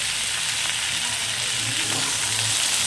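Taro and eggplant frying in oil in a wok after a kalonji tempering, producing a dense, continuous crackling sizzle at an even, moderate level with no voices.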